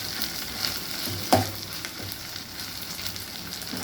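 Ginger garlic paste frying in a pan gives off a steady, soft sizzle, with a few scrapes and stirs, one sharper knock near the start, and no talking.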